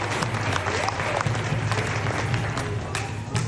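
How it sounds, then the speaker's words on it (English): Audience applause at a tiger show on the Gold Coast in Australia, a busy crowd clapping with scattered voices and light cheering mixed in. "how about we give him a round of applause?"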